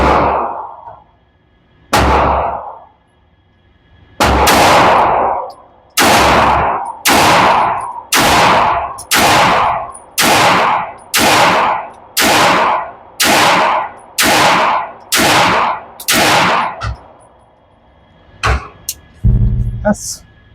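Loud, evenly paced single gunshots from a WatchTower Demolitia pistol at an outdoor shooting range, about a dozen booming reports with ringing tails, followed by a few quieter clicks and handling noises.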